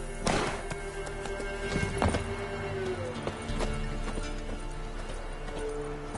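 Horse galloping in The Witcher 3 video game, brisk hoofbeats under a steady layer of game music, with a louder thump near the start and no talking.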